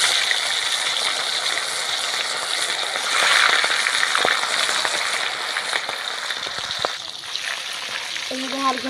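Pangas fish pieces fry in hot oil, giving a steady, close sizzle with crackles and occasional stirring scrapes throughout.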